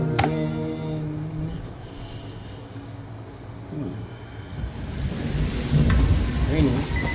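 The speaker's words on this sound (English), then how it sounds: "Rainy." Rain pours steadily in the zombie survival game Dying Light while a sharp thunderclap cracks near the start and a low rumble rolls in later, all under a continuous wash of falling rain.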